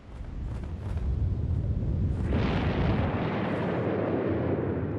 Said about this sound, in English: Oh, volcano explosion?